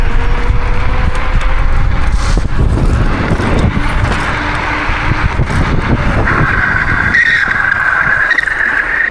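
A car drifts around a big parking lot on already worn, cooked tires, engine roaring loud and close with continuous skidding and tire squeal that rises into a sustained high screech near the end.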